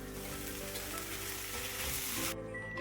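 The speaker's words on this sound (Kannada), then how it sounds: "ಇದೆಲ್ಲ ತುಪ್ಪದಲ್ಲಿ ಫ್ರೈ ಮಾಡ್ಕೊಳ್ಬೇಕು." Fresh turmeric root frying in ghee gives a steady, dense sizzle that runs without a break, then shifts and thins near the end, as if stirred or the heat drops.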